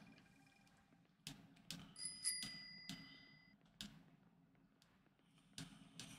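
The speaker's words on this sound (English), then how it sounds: "Is that like a bell off a bike?" A bicycle bell rings in the farming game Coral Island, a couple of quick bright dings over a quiet game ambience with soft clicks and taps around them.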